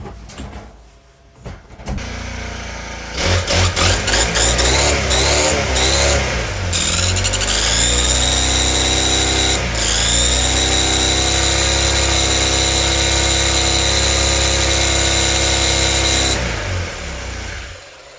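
Honda UMK brushcutter with a repaired trimmer head gearbox, guard off, starting after a few pulls and then running loud and close at a steady high idle for a long stretch before cutting out.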